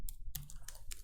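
Several quick, close keystrokes on a computer keyboard as code is typed, heard in short irregular bursts with faint room tone between them.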